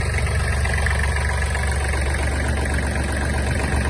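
A Kubota GL-241 Japanese mini tractor engine idles steadily and evenly, a loud, constant low rumble with no change in pace and no voices over it.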